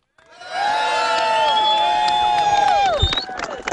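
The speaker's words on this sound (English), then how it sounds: "Let's give a round of applause and a hooray for the thought criminal" A crowd cheers and whoops loudly for a few seconds, with shouts over a sustained roar that ends in a burst of noise.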